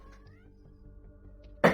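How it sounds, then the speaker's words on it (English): A house cat meows once, loud and close, right at the end, after a stretch of quiet low background sound from a space strategy game. "There's a cat basically meowing"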